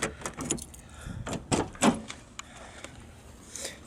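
Keys jangle and a latch clicks as the pillarless door of a 1986 Toyota Supra is unlocked and opened, a series of close, sharp metallic clacks and thumps with quieter gaps between.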